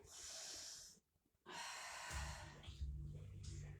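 Slow breathing during a Pilates relaxation exercise, a close, soft exhale, a brief pause, then a long airy breath, with faint low tones underneath.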